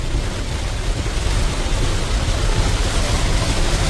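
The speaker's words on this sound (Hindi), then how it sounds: "बहुत तेज बारिश" Very heavy rain pounding a moving vehicle on a road through Bastar, with a dense, steady roar of downpour and road noise filling the whole stretch without pause.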